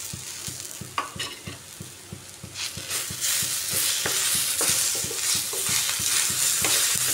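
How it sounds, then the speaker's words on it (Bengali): Chicken and chopped tomato fry in a pan with a steady sizzle, while a spatula scrapes and stirs in a quick, regular rhythm close by. "টমেটোটা দিয়েও আরেকটু সময় ভেজে নিচ্ছি।"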